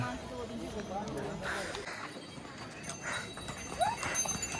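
Horses' hooves clip-clop along at a walking pace on the mountain trail to Kedarnath, fairly faint, with voices and outdoor background noise around them.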